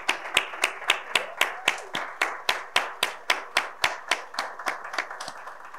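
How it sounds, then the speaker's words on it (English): Applause from a small audience of city employees at a mayoral town hall, heard as sparse, distinct individual claps in a steady rhythm rather than a dense roar, fairly close and alone with no talk over it. "if you work for the city, stand up, please, and get a round of applause."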